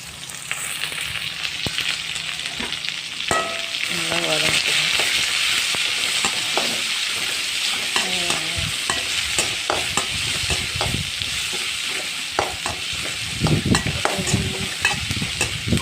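Large onions sautéing in a pan for bottle gourd kuzhambu, a loud continuous sizzle with intermittent scraping stirs and clanks of a spatula, close up and without speech.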